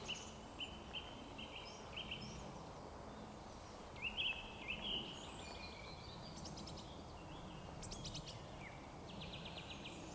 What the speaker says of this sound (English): Just listen to all them birds.